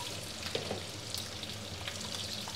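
Onions and green chillies frying in a pan, a steady, close sizzle with small crackles and no voices.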